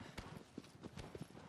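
Horse hooves clip-clop at a steady trot in the video game Shadow of the Colossus, a soft rhythmic series of thuds heard faintly among low background game sounds.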